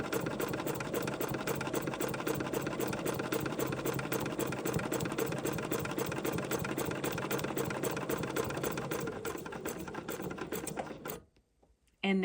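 A sewing machine fitted with an open toe foot stitches continuously for about eleven seconds, a close, even, rapid mechanical patter, then cuts off into near silence before a brief final burst.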